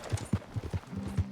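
Horse hooves clip-clopping at a rhythmic gallop in the video game Red Dead Redemption 2, about eight close, distinct thumps over a steady low hum, with no talk.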